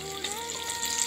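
Banana fritters (pisang goreng) frying in hot oil, giving a steady, close sizzling hiss with no talking.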